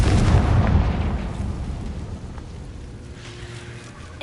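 A heavy fiery blast from the Confringo spell in Hogwarts Legacy booms at the start, then rumbles and crackles away into a fading, debris-like wash over several seconds, with no talking.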